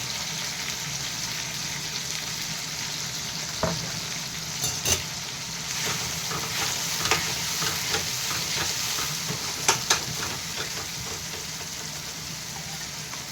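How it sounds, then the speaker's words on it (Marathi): Tomato and onion frying in a pan for upma, a steady close sizzle with occasional sharp clicks and scrapes of a spoon stirring, no voices. "आता आपण याच्यात टाकूया टोमॅटो आणि कांदा."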